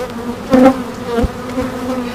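Honeybees swarm around an opened backyard hive during an inspection, a steady close drone with pitch swelling louder for a moment, then settling back into a continuous hum.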